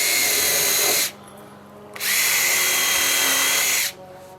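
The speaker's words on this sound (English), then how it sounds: "you can just hold it down, slam in those toe screws" A power drill drives toe screws into tongue and groove boards on an A-frame cabin, two loud sustained whirring bursts separated by a short quiet pause, with no talking.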